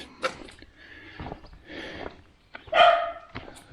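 Farm dogs bark outdoors in short, loud bursts, with a yip and some scattered rough barks spread over a few seconds, fairly close.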